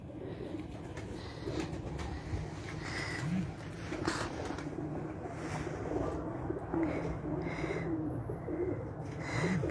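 Breeder pigeons coo softly and repeatedly amid a steady murmur of background noise, a few low, rounded calls surfacing now and then without any talk.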